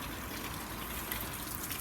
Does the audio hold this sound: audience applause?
no